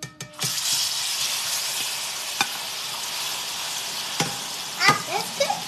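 Banana frying in hot oil gives a steady, close sizzle throughout, broken by a few sharp pops and crackles near the end, with faint voices in the background.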